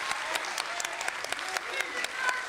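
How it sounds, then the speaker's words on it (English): A short burst of dense applause, many hands clapping at once, steady and moderately loud with no voices standing out. "Clap it up for McQueen."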